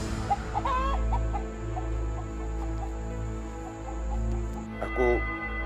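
A rooster clucks several times over a low background hum, with short warbling calls rising near the start and again toward the end.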